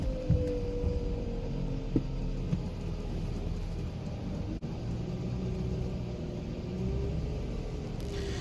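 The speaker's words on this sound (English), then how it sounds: "You can see the Army truck tire straightening out as it's pulling there." An Army LMTV truck stuck deep in mud strains as it is pulled out with straps, giving a steady low engine rumble and drone that holds throughout, with a few brief knocks and creaks over it.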